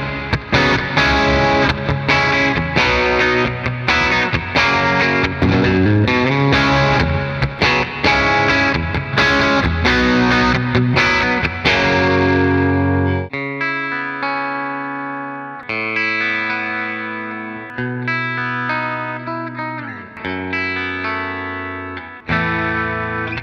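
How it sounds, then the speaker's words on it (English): Electric guitar played through a Stratocaster pickup with heavy distortion and effects: fast loud chugging riff for about twelve seconds, then sustained ringing notes and slower chord changes, alone with no talk. "we're gonna start with a normal Strat and then compare it to a Telecaster pickup"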